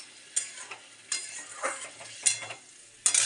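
Curry being stir-fried in a pan, with a spatula scraping and stirring in several short, close bursts over a soft background sizzle, no voices present.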